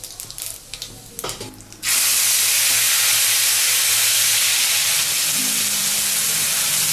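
Whole cinnamon, cloves, cardamom and cumin hit hot oil for a Bengali prawn malai curry, and a loud, sudden sizzle bursts up and then holds steady after a few quieter kitchen clatters.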